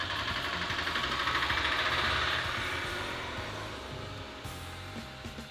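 A sewing machine runs steadily while stitching cord piping, a continuous mechanical whir with a fast rhythmic clatter that is loud at first and slowly eases off toward the end.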